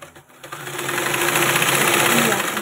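A sewing machine runs steadily while stitching a blouse's lining and main fabric around a back neckline, a continuous motor whir that starts after a brief quiet moment and holds at an even level to the end.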